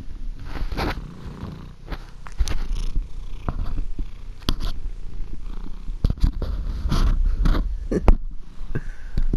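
A cat batting and pawing at a pair of headphones, giving soft scuffing, rustling and light clicking taps that come in irregular bursts up close, with a low steady rumble running underneath throughout.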